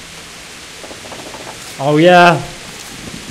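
Steady rain in Kingdom Come Deliverance, a soft even hiss running the whole time beneath someone talking briefly in the middle.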